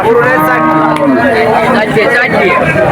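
Cattle, including bony cows, low and moo amid the bustle of the Monirampur cattle market. A close, loud crowd of people talks throughout.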